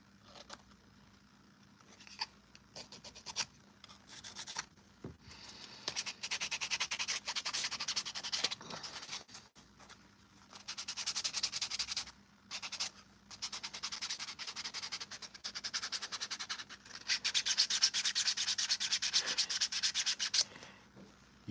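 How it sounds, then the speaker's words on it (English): Hand sanding a Mandalorian armor piece for a custom commission: repeated bursts of dry, scratchy rubbing strokes, close and fairly loud, separated by short pauses, with no voices. "a lot of people really don't like the sanding process"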